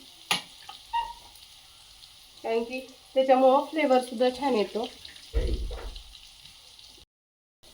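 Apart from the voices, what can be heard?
tempering paste of garlic, green chilli, asafoetida and cumin sizzling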